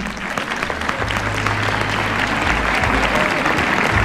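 An audience at the Miss Bretagne 2022 pageant applauds the RMN team in a loud, dense burst of clapping that holds steady for the whole stretch, with a low hum of crowd noise underneath.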